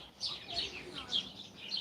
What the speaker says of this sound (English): I'm not sure if y'all can hear all the birds, but they're here for their afternoon feeding